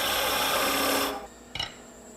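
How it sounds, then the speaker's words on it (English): Wood spinning on a lathe as a gouge plunges in and sweeps over to remove material, a loud steady rasping cut that stops abruptly, leaving a quieter hum with a brief knock. "plunge in and come over, remove some material, plunge in again, and I'll keep doing that till I get about halfway through"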